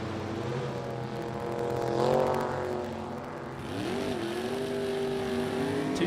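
Drag race cars, a Calais and a 2019 Corvette, roaring at a distance with a sustained engine drone that swells around the middle, then shifts pitch and carries on steadily.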